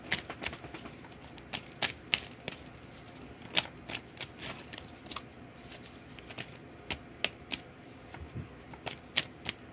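A tarot card deck is shuffled in short bursts of crisp, close riffling clicks and flicks, with quiet gaps between the bursts.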